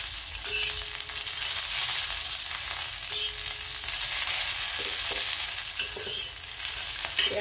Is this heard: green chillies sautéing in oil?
yes